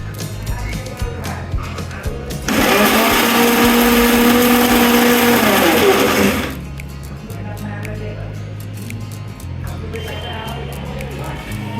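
A kitchen blender grinds mustard seeds into a paste, roaring loudly and continuously for about four seconds in the middle, with quieter low background sounds before and after.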